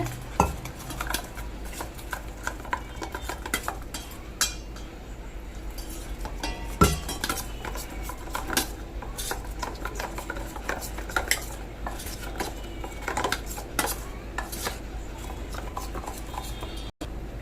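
A spoon stirs gram flour into a little water in a bowl for eggplant chutney, with repeated light scraping and clinking against the vessel, close and fairly quiet, no talking.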